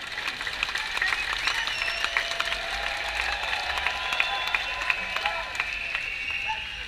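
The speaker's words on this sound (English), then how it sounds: "Giving some applause to the people that we miss" A crowd outdoors at a Canal Street candlelight vigil during Manchester Pride applauds in a long, steady wash of clapping, with scattered cheers and crowd murmur mixed in.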